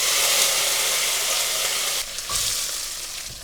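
Cumin, mustard seeds and a handful of homegrown curry leaves hit hot oil for a cauliflower peanut sabzi, giving a loud, steady sizzle that briefly dips and then crackles up again as the leaves go in.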